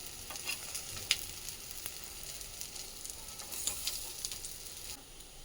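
Ragada patties fry in a pan, giving a soft, steady sizzle with scattered crackles and a few light clicks as they are turned, heard quietly and without talk.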